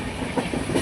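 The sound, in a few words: train starting and moving off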